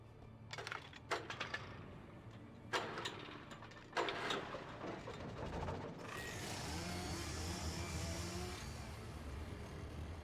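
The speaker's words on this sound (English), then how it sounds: "That doesn't sound like a generator. That sounds like a chainsaw boy." A generator in Alan Wake being started with a few sharp mechanical pulls and clunks, then catching into a steady, buzzing engine drone like a chainsaw that runs on alone.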